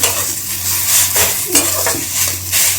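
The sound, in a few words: stirring pav bhaji filling in a pan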